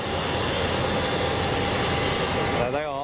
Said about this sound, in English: We've got an aircraft on approach, just a little lightweight aircraft.